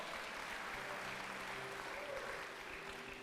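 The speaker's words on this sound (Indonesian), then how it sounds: "Tepuk tangan bagi Allah kita." A church congregation applauds during a sermon, a steady, fairly faint wash of clapping from many hands lasting throughout.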